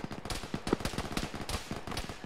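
Rapid gunfire in the military shooter Arma during a ShackTac firefight, with dense overlapping shots cracking in quick bursts, some near and some farther off, filling a short busy stretch without any speech.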